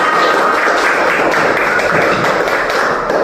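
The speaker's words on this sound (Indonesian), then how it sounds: "Oke, tepuk tangan dulu semuanya." Steady applause from a classroom of students, loud and continuous throughout with no talk over it.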